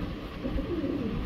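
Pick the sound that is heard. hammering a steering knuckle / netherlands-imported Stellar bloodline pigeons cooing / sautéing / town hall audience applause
netherlands-imported Stellar bloodline pigeons cooing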